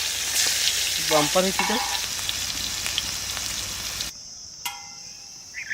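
Hilsa fish wrapped in gourd leaves frying in a pan, a dense close sizzle with stirring clatter and faint chirps for about four seconds, then the frying drops to a quieter, thinner hiss.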